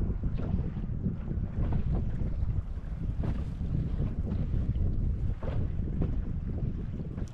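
Steady wind buffeting the microphone at sea, a continuous low roar with gusts and faint water sloshing beneath, no voices.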